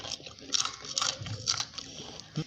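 A crunchy snack with anchovies is bitten and chewed close to the microphone, several crisp crunches in quick irregular succession, loud and dry with no talk over them.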